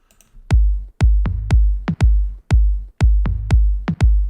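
Punchy electronic toms hit in a steady rhythm, about nine strikes, each with a deep sub-bass thump and quick pitch drop, alone and loud.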